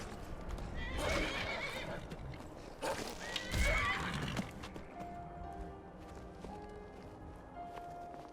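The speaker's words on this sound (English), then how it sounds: "It's a horse." A horse in Skyrim whinnies twice in loud, close bursts, with its hooves thudding and clip-clopping in between, all against a quiet outdoor background.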